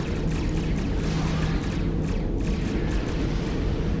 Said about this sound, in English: Oh wow, you see those black explosions.